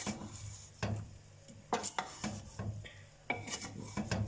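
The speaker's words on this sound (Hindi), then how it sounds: "तो इसको बहुत ध्यान से हम मिक्स करते हैं।" A spoon scrapes and stirs through cooked biryani rice in a pot, giving soft rasping strokes and small metallic clinks in an irregular rhythm, close and quiet.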